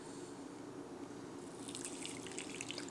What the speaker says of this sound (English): So I'm just going to pour the water.